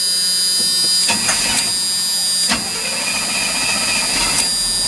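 A carbureted engine runs steadily and fairly loud, needing a little carburetor adjustment, with a constant mechanical drone and a few brief bumps and clicks over it.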